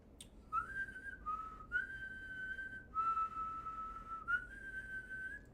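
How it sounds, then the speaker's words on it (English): A person whistles a steady tune alone, with sustained pitched notes broken by brief pauses, clear and moderately near against a faint background hum. "Please whistle."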